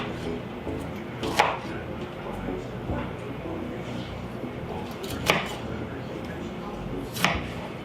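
A knife cuts potatoes on a cutting board at home: three or four distinct chopping thuds spaced a couple of seconds apart, set against a steady background murmur.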